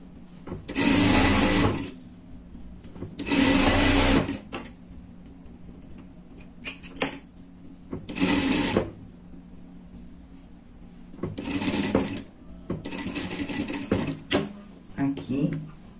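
A sewing machine stitches the front of a lined pet jacket in several separate bursts of fast whirring, loud and close, with quiet gaps and small clicks between runs.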